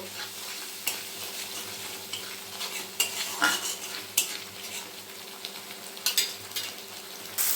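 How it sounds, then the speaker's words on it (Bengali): Salt, turmeric and chili powder cook down with a splash of water in a pan for a rohu fish and ridge gourd curry. A steady sizzle runs throughout, with repeated scraping stirs and occasional sharp clicks of a utensil against the pan. "দিয়ে দেব পরিমাণ মতো লবণ হলুদ গুঁড়ো লঙ্কার গুঁড়ো এবার খুব ভালোভাবে কষিয়ে নেব"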